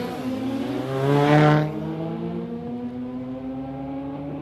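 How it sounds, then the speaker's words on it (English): Mazda MX-5 accelerating hard at a drag strip, engine note climbing steadily through the gears with a loud swell early on, heard up close and continuous without speech. "Ryan Feakin, the little MX-5. Watch him smash this thing through the gears."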